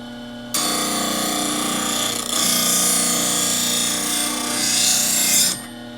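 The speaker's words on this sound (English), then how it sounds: "So take off the old burr first by sharpening the top side." Top side of a wood lathe turning tool ground on a bench grinder, a steady loud gritty whine of steel on the wheel lasting about five seconds, with the grinder's hum before and after.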